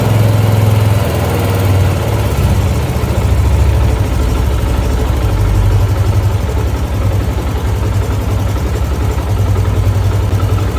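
A Yamaha YBR125 motorcycle engine idles steadily at close range during carburetor air-mixture tuning, a loud continuous low thrum with a faint rhythmic patter and slight shifts in pitch, no talking.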